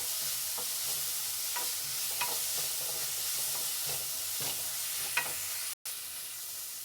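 Masala ingredients being dry-roasted in a pan for curry: a steady, close frying sizzle with rhythmic scraping stirs throughout, cut by a short silent break near the end.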